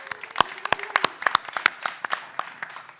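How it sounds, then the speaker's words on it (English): A live audience at a startup ecosystem fireside chat in Estonia claps a round of applause, scattered and sparse, with distinct individual claps spread across a few seconds rather than a dense roar. "let's give a round of applause to Henrik."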